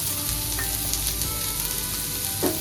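Red and yellow capsicum sautéing in a pan for a crispy salad, giving a steady close sizzle with a few brief stirring clinks, no voices.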